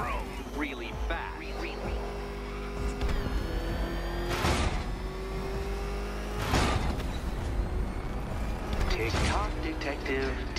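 The Batmobile in Batman: Arkham Knight revs and roars, its engine surging in repeated bursts under a continuous mechanical drone, with a voice talking over it.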